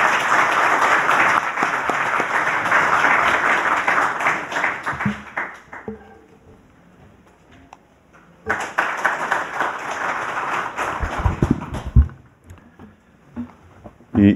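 An audience at a constitutional-reform citizens' assembly launch ceremony applauds loudly, welcoming a former party leader to the stage; steady clapping for about five seconds fades out, then a second burst swells before dying away with a few scattered claps.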